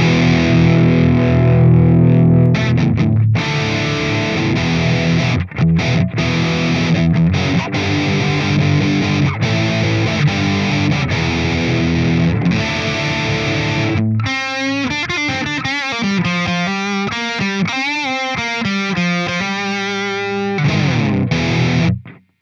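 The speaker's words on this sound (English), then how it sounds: "throw one of these amp simulators on there, just to get a sound" An electric guitar recorded as a DI track and run through an amp simulator in a studio gives heavily distorted, loud sustained chords and riffs, turning to cleaner picked single notes in the later part.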